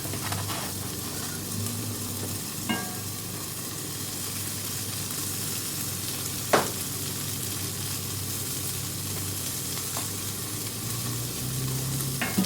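Cudighi sausage sizzling on a Camp Chef FTG600 flat top grill just after being flipped, a steady, close frying hiss with a few brief scraping clicks and no talking.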